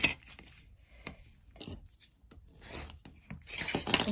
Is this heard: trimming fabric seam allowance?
yes